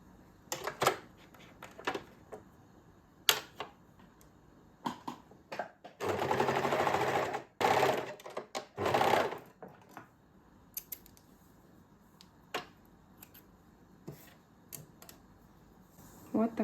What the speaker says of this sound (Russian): прошиваем по вот этому шву